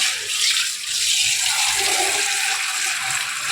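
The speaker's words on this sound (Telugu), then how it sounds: "మళ్ళీ ఈ ట్యాప్ వాటర్ మళ్ళీ ఒకసారి కడుక్కున్నాను" Tap water gushes steadily and loudly for a few seconds while rinsing minced mutton, a continuous rushing splash with no voices.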